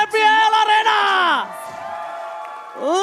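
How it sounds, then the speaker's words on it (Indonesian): A crowd in an esports arena at a Mobile Legends: Bang Bang MPL league match whoops and yells in loud, sustained bursts that swell, dip briefly and rise again. "minta tepuk tangan MPL Arena"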